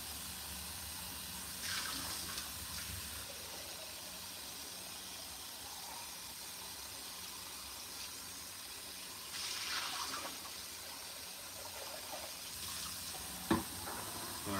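Tap water running to rinse a kimchi container: a faint, steady splashing hiss with a few swells and a brief clatter near the end, no voices.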